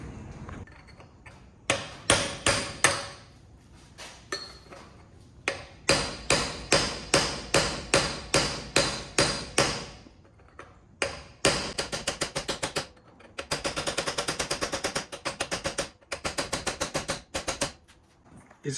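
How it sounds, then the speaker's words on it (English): Hammer blows striking a chisel against a bicycle bearing's inner race, sharp metallic hits in quick rhythmic runs of several strikes with short pauses between, loud and close with no talking. "So I'm having a hard time hitting that chisel, but I'm getting it."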